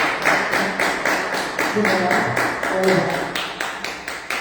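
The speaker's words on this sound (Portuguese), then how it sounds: "E as palmas que louvam o nome do Senhor" A congregation at a family blessing church service claps in a steady rhythm of praise, sharp regular beats repeating about three times a second, with faint singing or voices beneath.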